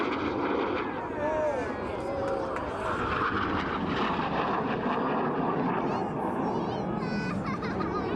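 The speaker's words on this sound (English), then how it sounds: "Now as they dive in towards us here, this is an aggressive dive down to 100 feet." Red Arrows jets dive low over RAF Leuchars airshow, a loud continuous jet roar filling the whole stretch, with a commentator talking over it throughout.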